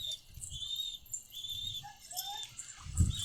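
Thin, high-pitched chirps and peeping calls from a young pigeon, repeated in short bursts, close and fairly quiet.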